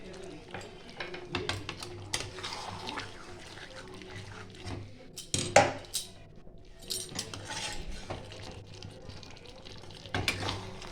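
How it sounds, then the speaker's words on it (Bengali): Spoon stirring half a cup of milk into chicken curry in a pan, cooked without water: soft scraping and clinks come in uneven bursts, with a brief sharper knock midway, over a low steady background. "দুধটা আমি ভালো করে নাড়িয়ে চাড়িয়ে নেব।"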